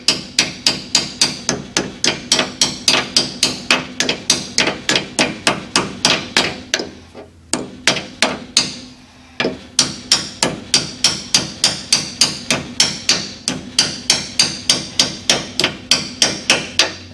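Hammer tapping a disc brake clip into place on a 1970 Mustang, dozens of sharp, loud, evenly spaced metallic strikes in a steady rhythm, with two brief pauses midway.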